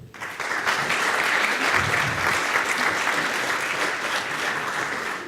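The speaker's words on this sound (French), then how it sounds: "On peut applaudir." Sustained audience applause at a French presentation of student digital workshop projects before a jury, a dense steady wash of many hands clapping that starts abruptly and holds evenly throughout without speech.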